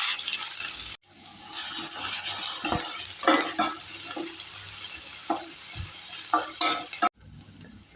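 Chopped onions hit hot oil already crackling with mustard seeds and cumin, giving a steady close-up sizzle with scattered pops and stirring scrapes, broken by two short cuts to quiet.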